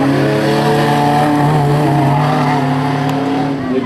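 Historic rally car accelerating hard up a hillclimb course, a loud, close engine roar with rising harmonic tone held steadily throughout.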